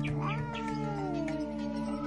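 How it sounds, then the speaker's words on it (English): A single drawn-out cat meow in a student drama performance, rising then sliding slowly downward, heard over a steady background drone. "Your cat's not wild."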